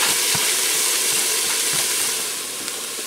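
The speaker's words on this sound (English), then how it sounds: "I'm going to get them in here and saute them for about 5 minutes so they start to get tender" Diced pepper, celery, onion and garlic sauté in a pot, a loud continuous sizzle close by with a few soft stirring knocks, easing slightly toward the end.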